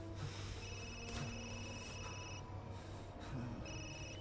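Phone ringing in the video game Resident Evil Village, a repeating electronic ring in bursts over a low background hum, steady and clear.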